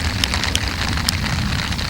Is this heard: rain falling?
yes